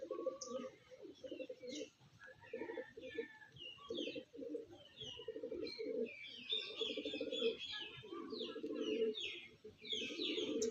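Several pigeons coo in repeated low, throaty bursts close by, with lighter chirps and rustling scattered between the calls.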